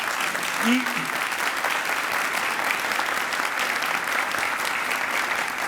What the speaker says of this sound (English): Let's give Tom another round of applause